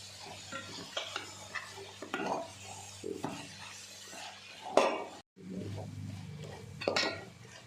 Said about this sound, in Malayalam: പച്ചമണം മാറുന്നത് വരെ ഇളക്കാം.